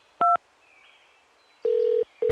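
A phone number is dialed in a series of keypad tones: one short two-tone beep, a pause, then a longer steady tone and the start of another, loud and close, with no voices.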